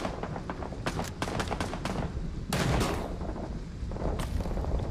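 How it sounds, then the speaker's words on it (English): Artillery barrage in the Vietnam-era shooter Rising Storm 2: a string of sharp gunfire bursts gives way to a heavy, booming impact around the midpoint, with more blasts rumbling afterward, loud and close against constant battlefield noise. "Oh, here it comes. Artillery."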